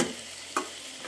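Soybean pulao tempering in oil with bay leaf, onion, garlic, spices, yogurt and tomato, a faint steady sizzle with a brief stirring scrape partway through.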